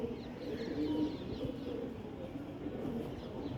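Soft, low cooing of several pigeons overlapping in a gentle rolling rhythm, close by, with faint background chirps, at a rooftop pigeon-flying contest in Amritsar.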